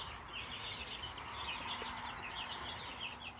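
Broiler and layer chicks in a brooder give soft, steady high peeping and cheeping, a continuous chorus at low level with no talking.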